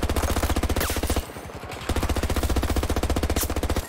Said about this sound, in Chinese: 还敢玩机枪啊？